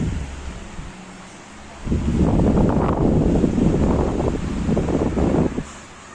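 A freshly repaired electric fan whooshes strongly after a quieter start, a steady broadband rush of moving air held for several seconds up close.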